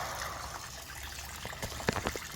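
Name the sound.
coolant trickling out of a C6 Z06 engine head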